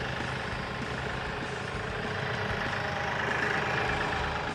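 A KIOTI tractor left running in neutral with the park brake set, its diesel engine idling in a steady, loud, low rumble that continues evenly without any talk.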